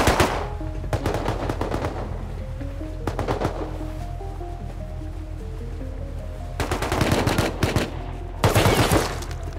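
Bursts of rapid automatic gunfire in a train-robbing video game, several loud volleys separated by short lulls over a steady low in-game hum.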